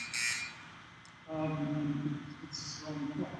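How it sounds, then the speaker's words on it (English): A debate timing buzzer gives a double buzz: two short, loud electronic tones in a row that mark the start of speaking time, sounding clearly in a quiet hall. "A double buzz will sound at the start of the speaking time."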